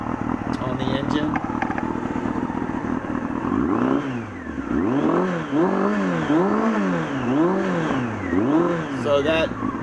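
A 1996 Honda CBR600F3 motorcycle with a Vance & Hines SS2R aftermarket exhaust rumbles, then revs repeatedly in rising and falling surges, with a deep, throaty exhaust note up close.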